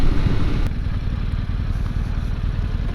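A 2022 Yamaha Tenere 700 motorcycle engine rumbles steadily while riding, loud and continuous, with wind rushing over it.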